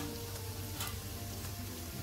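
Ingredients for a green chickpea pulao fry in a pan, giving off a steady, soft broadband sizzle that stays fairly quiet and even throughout, with no talking.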